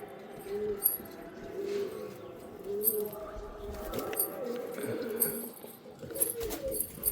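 Pet pigeons kept indoors give soft, low coos and rustles, quiet and close, with no talking.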